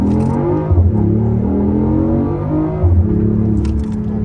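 A BMW i8 hybrid sports car drones loudly from close range, with a steady engine hum that swells briefly twice as it revs, heard alone without talk.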